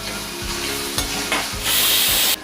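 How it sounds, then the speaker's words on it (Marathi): Chopped tomato is stirred into a pan of frying mixed vegetables for a masala dish: loud steady sizzling with repeated spoon scrapes and clanks, the hiss swelling louder near the end. "आता मी त्यात एक चिरलेला टोमॅटो टाकते आणि त्याला पण मी आता व्यवस्थित मिक्स करून घेते"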